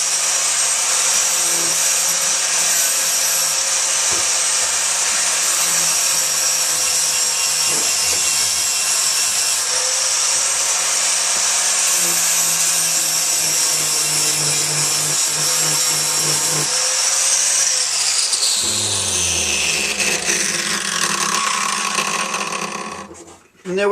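A grinder works steadily on a hand-fabricated Harley-Davidson air filter cover, a loud continuous abrasive whine that runs almost the whole clip before spinning down near the end, with faint talk underneath.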